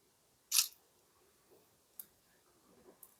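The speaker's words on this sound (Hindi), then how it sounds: "तो सबसे पहले एक पिक्चर में क्लिक कर लेता हूँ।" Camera shutter of a Tecno Spark 20C phone taking a rear-camera picture: one sharp, crisp click near the start, then a few faint ticks against quiet background.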